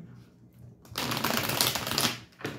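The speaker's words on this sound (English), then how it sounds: "So I'm going to pull the tarot. I have the Sorcerer's Tarot," A Sorcerer's Tarot deck being shuffled, a dense riffling rustle of cards that starts abruptly after a quiet moment, holds for about a second, then ends with a short final flutter.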